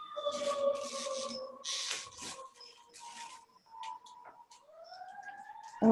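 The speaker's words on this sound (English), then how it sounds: "I'm sorry about the sirens." A wailing siren rises and falls in pitch, fairly loud and steady across the clip, with a second siren tone sweeping upward near the end.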